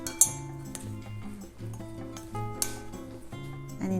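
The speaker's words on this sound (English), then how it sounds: "Then mix it." Vegetables seasoned with salt and black pepper being mixed in a bowl, heard as light clinks and taps of a utensil against the bowl over a faint, tonal background.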